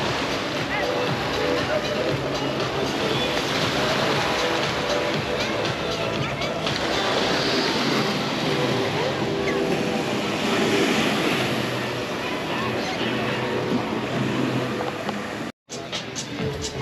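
Waves roll onto a beach in Cozumel with a continuous wash of surf and wind, mixed with a voice talking and a brief dropout near the end.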